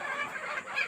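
A desi rooster on a poultry farm gives a short, quiet, raspy call, faint and brief.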